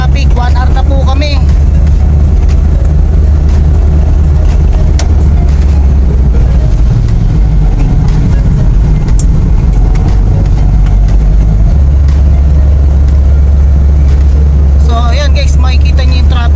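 Heavy, slow-moving road traffic heard from inside a car, with a loud, steady low engine rumble throughout and people talking over it.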